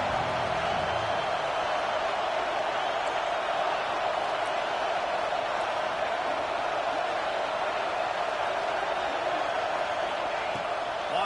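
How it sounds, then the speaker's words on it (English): Large football stadium crowd roaring steadily for the home defense during a red-zone stand at an Ohio State at Arkansas game, a dense, continuous wash of cheering that stays loud and unbroken throughout. "The crowd getting behind this defense as they try to get a stop in the red zone."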